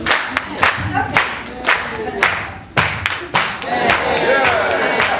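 At a press conference, the crowd claps out a rhythm for a shoulder dance, sharp loud claps in an uneven beat mixed with crowd voices and cheering, settling into a denser sustained noise near the end.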